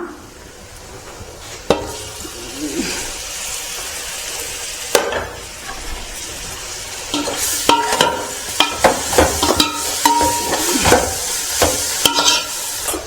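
Tomatoes frying in oil in a pan for mutton paya biryani, a continuous sizzle with a sharp burst as they go in, followed by frequent clinks and scrapes of a spoon stirring against the pan.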